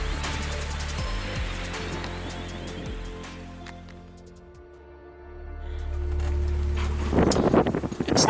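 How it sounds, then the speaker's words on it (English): Wind gusting at 15 to 18 knots over a sailboat at sea near Great Inagua at night, a steady roar and rush with rattling and flapping that swells again toward the end. "Now we've got 15, 16 knots of wind gusting to 18, and we're moving."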